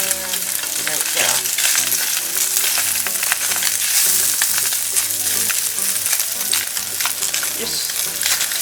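Spam slices fry in a pan with a loud, dense, continuous sizzle and crackle, heard up close with occasional utensil sounds and no talking.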